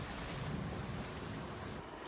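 Wind gusts across a lake during a sailing and windsurfing regatta in a fresh breeze, with broadband rushing, buffeting microphone wind and lapping water, steady and fairly loud.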